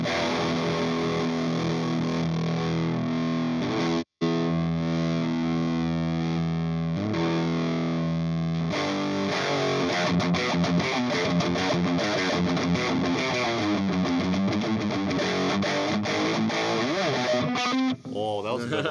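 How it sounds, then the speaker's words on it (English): A heavily distorted electric guitar through an Orange vintage-style distortion pedal plays sustained chords and then busier bending riffs, with a thick fuzzy tone throughout. "So let's go to distortion."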